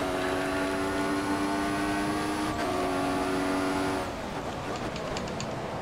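An F1 race car engine in the F1 2014 video game at Bahrain, a steady high-pitched whine holding pitch, dipping briefly mid-way, then cutting off near the end as the car lifts.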